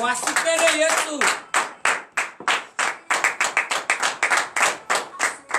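A congregation at a morning prayer service in Benin claps in acclamation: after a brief voice at the start, a steady, rhythmic run of loud, close hand claps fills the rest of the moment.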